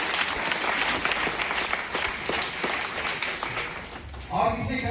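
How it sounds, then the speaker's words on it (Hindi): An audience of children and adults applauds for a child at a gathering, a dense, steady wash of clapping that carries on for several seconds before tapering off as a voice begins to speak. "इनके लिए ताली बजाओ"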